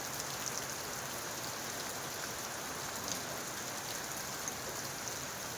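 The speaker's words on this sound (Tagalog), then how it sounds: "Ayan, ang lakas ng ulan." Steady downpour of heavy rain at night, a constant broadband hiss with scattered sharper drop impacts throughout, no talking.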